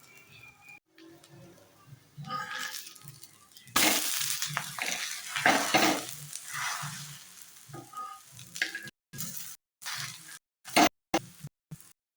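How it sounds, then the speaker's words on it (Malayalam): Drumstick leaf ada dosa frying in sesame oil on a pan, a steady crackling sizzle with scraping and stirring sounds, louder in the middle and broken by short pauses toward the end. "എല്ലാവർക്കും താല്പര്യമുള്ള എണ്ണ ഒഴിച്ച് നല്ല മൊരിച്ചെടുക്കണം."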